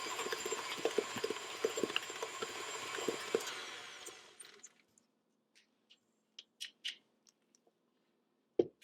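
An electric mixer beats Italian rainbow cookie batter, whirring steadily and close, then stops about halfway through, leaving a few scattered taps and clinks.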